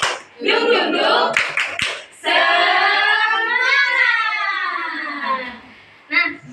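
Fourth-grade students in a classroom perform the 'tepuk semangat' chant, shouting sung syllables together with a quick burst of claps near the start and another short clap at the end.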